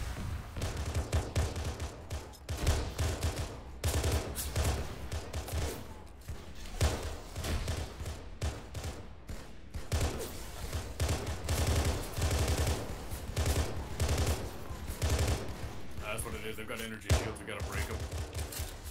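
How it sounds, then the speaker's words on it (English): Automatic gunfire in ArmA 3 empties a whole magazine, with rapid repeated bursts of thumping shots running through most of the clip and quieter game sounds between them. "Dumping a whole mag into them."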